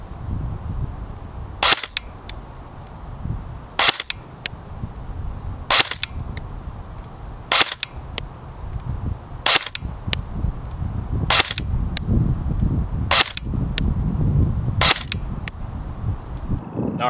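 An airsoft gun fitted with a Madbull 6.03 steel barrel fires 0.28 g BBs at a target 100 feet away: nine crisp, sharp single shots about two seconds apart over a steady outdoor rumble.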